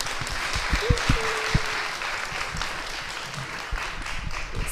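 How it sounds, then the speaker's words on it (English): Audience applause rises in a conference hall at a research and innovation culture event, a dense wash of many hands clapping at moderate volume, with a few louder nearby claps and a brief tonal sound early on. "a round of applause to Siobhan"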